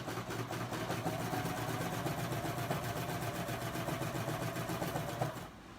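A Babylock serger runs at a fast, even rhythm, a close, loud, rapid chatter of needles and loopers that holds steady for several seconds before stopping abruptly near the end.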